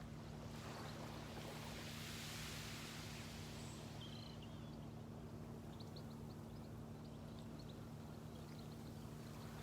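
Ocean waves on a beach, a steady broad wash of surf and wind noise rolling on continuously for several seconds, faint but unbroken, with no talking.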